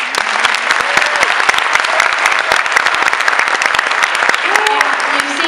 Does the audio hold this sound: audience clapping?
yes